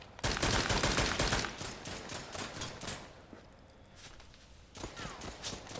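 Gunfire in the VR shooter Contractors, rapid bursts of shots close by at first, then quieter scattered shots and footsteps, fairly faint overall.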